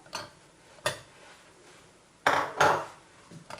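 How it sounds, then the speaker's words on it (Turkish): Chocolate pieces and a tablespoon of butter are stirred together in a bowl to melt, a spoon clinking against the dish in a few sharp knocks, two early and a louder pair near the end, with quiet gaps between. "Karıştırarak eritiyoruz."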